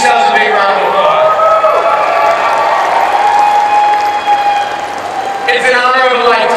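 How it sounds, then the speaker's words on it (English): A large crowd applauds and cheers at the Hmong Minnesota New Year celebration, a dense, steady wash of clapping with a voice ringing out over it before the clapping thins slightly near the end. "Give yourselves a big round of applause."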